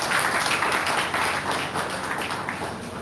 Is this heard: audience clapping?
yes